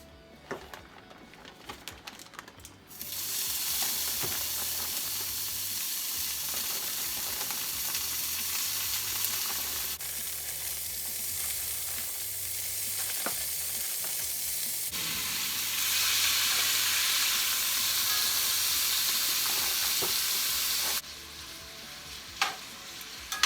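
Fajita vegetables with a splash of marinade sizzle loudly in a hot skillet for elk fajitas, a dense steady hiss broken by occasional scraping stirs, swelling louder midway before easing off near the end.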